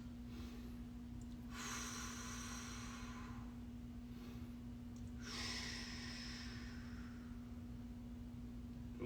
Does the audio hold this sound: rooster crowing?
no